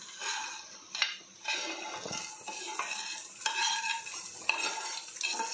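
Gravy for chicken fried rice stirred and sautéed in a pan, with a steady sizzle broken by repeated scraping strokes and light utensil clinks, close and alone.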